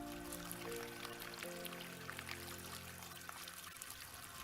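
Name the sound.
tap water pouring into a home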